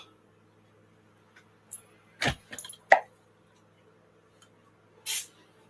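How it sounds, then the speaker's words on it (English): Cinnamon oil is sprayed from a spray bottle in a few quick, hissing bursts, two close together and one more after a pause, with faint clicks between them in a quiet room. "I'm gonna spray this bitch with some cinnamon oil."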